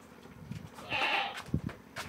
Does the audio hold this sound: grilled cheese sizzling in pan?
no